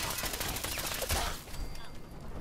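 Rapid explosive bullets fire at point-blank range in Fallout 4, a dense burst of cracking shots layered with blast noise that fades after about a second and a half.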